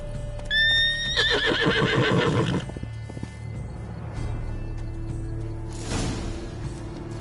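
A horse in the video game The Witcher 3 gives a loud, close whinny that rises then shakes, followed by a snort and low rustling.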